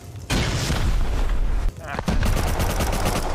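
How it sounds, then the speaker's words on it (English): Automatic turret fire in a shooter video game, a sustained burst of rapid gunfire with a brief gap midway before the firing resumes, loud and close, with excited players talking over it. "Oh my god, auto turret!"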